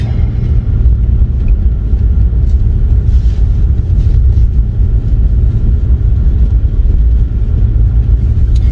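A BMW M240i driving on snowy winter roads, heard from inside as a loud, steady low rumble of engine and tire roar with no break throughout.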